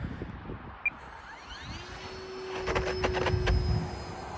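Electric motor of an Eflite Valiant RC plane spools up outdoors on a frozen pond, a thin whine rising steadily in pitch then settling into a sustained buzzing hum, close and moderately loud with wind noise underneath.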